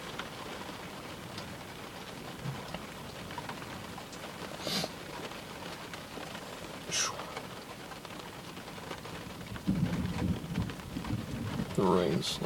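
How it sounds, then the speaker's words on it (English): Thunderstorm with steady heavy rain hissing throughout, a few brief sharp thunder cracks and a louder low rumble of thunder near the end, recorded outdoors during a dangerous lightning storm in Cambridge City, Indiana, with faint voices. "The rain's slowing down a bit again."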